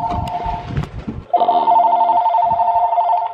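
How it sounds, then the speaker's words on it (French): A telephone rings in a French apartment, first under muffled background noise, then a loud, steady electronic ringing tone that sustains close by for about two seconds. "le téléphone sonne"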